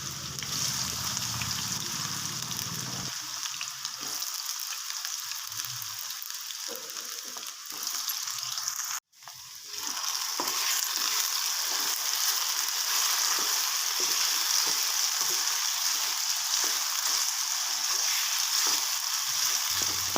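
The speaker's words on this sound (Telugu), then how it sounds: "ముక్కలను అయితే ఇలా చెక్కగంటతో తిప్పుకోండి" Potato pieces stir-frying in hot oil, turned with a wooden spatula: loud continuous sizzle with a brief cut midway, then rhythmic scraping and tossing strokes over the frying, close up.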